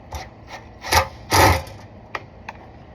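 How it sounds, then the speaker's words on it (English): A screw is tightened by hand in a mobile home, giving a few close, loud bursts of grinding and rubbing followed by two sharp little clicks. "Okay, just a little bit of tightening here."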